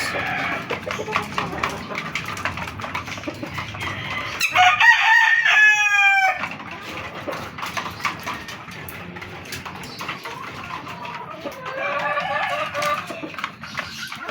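White Kelso gamefowl at daily feeding in a backyard breeding setup, with a loud rooster crow rising over steady clucking and chatter from the flock, then a second, fainter crow toward the end.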